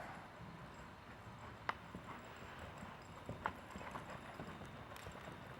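Hooves thud in a steady rolling canter rhythm on soft ground, fairly faint and distant, with occasional sharper impacts.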